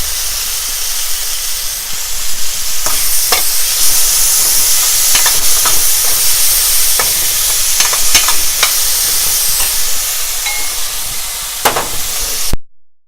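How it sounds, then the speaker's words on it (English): Tomatoes and cauliflower stirred in a hot pan for Indian aloo gobhi, giving a steady close sizzle and hiss with repeated scraping clicks of the spoon, no voices. "I will continue stirring them because they should not be stick to the pan"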